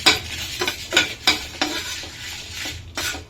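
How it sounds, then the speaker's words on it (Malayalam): Red chilies and coriander seeds are dry-roasted in a pan for homemade sambar powder, a utensil scraping and stirring in repeated, rhythmic strokes over a soft background sizzle, close and clear. "ഒരു 2 മിനിറ്റ് ആയത് നമുക്ക് ഈ മല്ലിയും കൂടെ അങ്ങോട്ട് ചൂടാക്കി എടുക്കാം"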